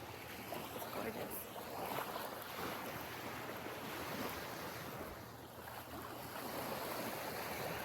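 Waves washing onto a Lake Michigan beach at Sleeping Bear Dunes, a continuous broad surf wash mixed with wind buffeting the microphone, steady and moderately loud with no clear voices.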